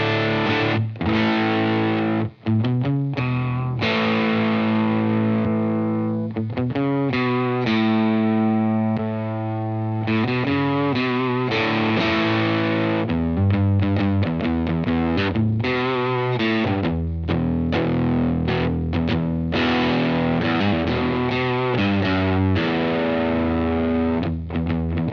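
A Lytt Effects Dead Bolt overdrive pedal drives an electric guitar into thick distortion, with sustained chords and quick choppy bursts that ring on loudly and without pause.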